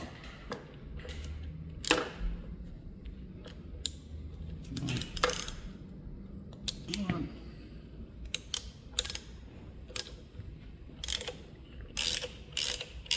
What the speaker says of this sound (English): I like to use an 8-point socket like I've shown before for this, for chasing threads